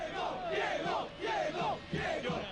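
Huge football stadium crowd of about 90,000 Naples supporters in a packed ground, roaring and chanting in three rising swells that carry loud and close.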